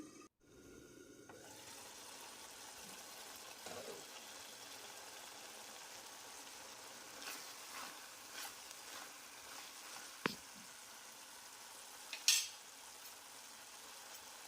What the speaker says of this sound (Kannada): ಒಂದು ಐದು ನಿಮಿಷ ಇದನ್ನು ಕುದಿಸ್ಕೊಳ್ತೇನೆ